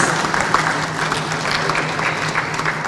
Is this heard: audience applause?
yes